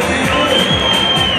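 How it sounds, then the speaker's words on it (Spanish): A crowd at an adult carnival costume contest in Dos Torres, Córdoba cheers and whoops in a loud, dense burst, with a few individual shouts rising above the din. "Un aplauso a esa conservación que nos ha ayudado para todos los desfiles."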